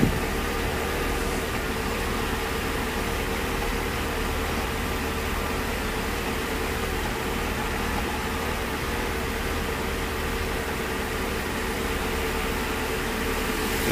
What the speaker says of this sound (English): See, the motor then never races up, stays steady.